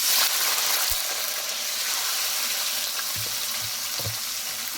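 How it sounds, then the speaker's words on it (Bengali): Marinated chicken fries in a pan with a steady, hissing sizzle, close and even, broken by a few soft knocks of stirring. "এবার হচ্ছে আমি ম্যারিনেট করা চিকেনটা দিয়ে দেবো"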